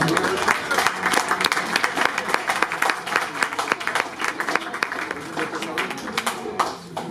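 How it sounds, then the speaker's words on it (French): A crowd at an evening event on haunted houses applauds in welcome for a priest, sustained, dense clapping with sharp individual claps standing out, fading slightly at the end. "On peut l'applaudir."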